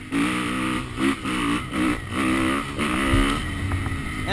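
A Kawasaki KX250 dirt bike engine revs in repeated sharp bursts, rising and falling in a choppy rhythm, fairly loud and close with no talking over it.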